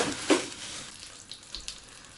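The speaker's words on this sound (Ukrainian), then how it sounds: "Все, швиденько обсмажую філе." Chicken fillet frying in unrefined sunflower oil in a pan, a soft sizzle with a louder hiss near the start and a few brief crackles afterward, fairly quiet and close.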